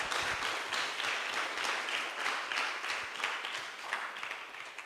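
Crowd applause at an outdoor children's cricket camp, fairly faint and distant, with a continuous wash of clapping hands throughout.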